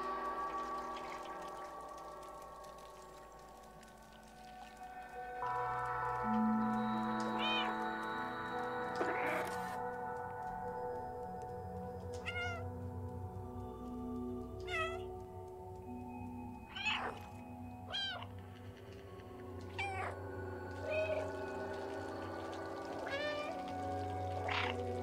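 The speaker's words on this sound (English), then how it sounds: "Meow, meow, meow." A cat meows repeatedly in the video game Stray, several short separate cries over a steady background hum with occasional watery trickling, and no talking.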